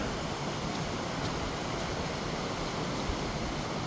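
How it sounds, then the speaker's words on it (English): Calm water trickles along a small babbling brook after larger falls, a soft steady broadband wash without distinct splashes, faint and continuous with no voices. "now we have some very calm trickling water"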